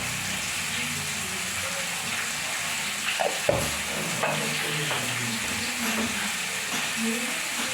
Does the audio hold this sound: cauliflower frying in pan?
yes